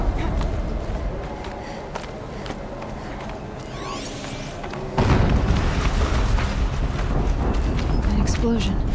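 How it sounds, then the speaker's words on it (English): An explosion in the Horizon Zero Dawn video game erupts as a sudden loud, deep blast partway through, lifting the busy game sound bed of movement and machinery. "An explosion."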